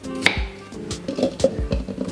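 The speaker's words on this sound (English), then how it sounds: "Cut it up small." A knife chops through an apple on a board, several uneven thuds and crunches in quick succession, close up with no talking.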